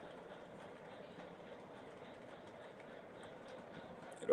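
A train runs steadily along the rails, a faint continuous rumble with light clickety-clack from the wheels at a distance and no other prominent sounds.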